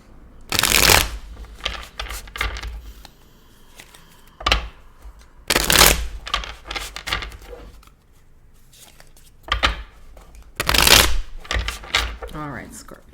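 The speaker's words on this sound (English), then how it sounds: "One more shuffle." Tarot cards are shuffled in three loud, crisp bursts of riffling, each lasting about a second, separated by quieter stretches with faint handling sounds.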